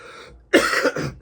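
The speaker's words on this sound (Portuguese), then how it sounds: "tá vindo uma tosse aqui" One harsh, close cough bursts out after a moment of quiet, a short double-pulsed hack from someone talking on camera, loud and alone.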